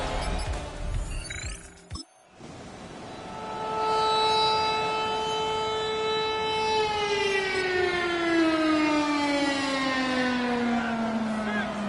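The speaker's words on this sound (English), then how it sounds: "the Cardinals listening for the sound of their signature big red siren, which signals an air raid" The Arizona Cardinals' big red air raid siren wails at a stadium in Glendale, a loud sustained tone that holds steady and then slowly falls in pitch, following a brief burst of other noise.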